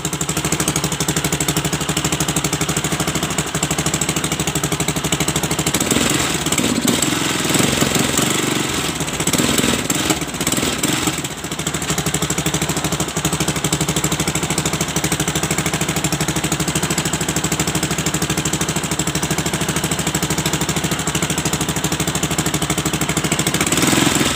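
A Viar three-wheeler engine runs steadily up close, loud and rough, with its drone rising and thickening in the middle as it is revved before settling back to an even idle.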